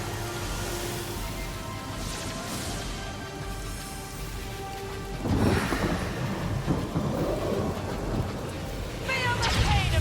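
Thunderstorm spell cast in the video game Divinity: Original Sin, a continuous rumbling storm bed that swells into heavier thunder crashes partway through and again near the end, with game sounds layered over it.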